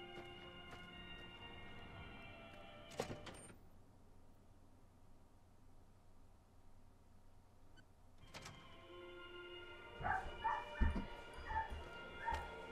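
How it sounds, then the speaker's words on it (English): Dog barking in the video game Fallout New Vegas, with short bursts of barks and yips near the end after a quiet stretch broken by two sharp game sound hits. "Dog is going nuts."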